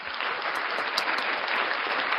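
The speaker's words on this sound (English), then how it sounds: "I clap for you." Crowd applause during a live reading event, an even burst of clapping filling the short stretch without talk.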